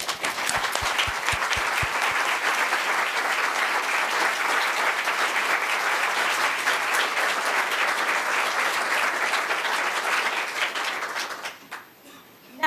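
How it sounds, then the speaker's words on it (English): A large audience at a library teen reading event applauds teen volunteers, a dense, loud, sustained round of clapping lasting about ten seconds before dying away. "Teen volunteers, please stand up and accept a grateful round of applause for all your hard work."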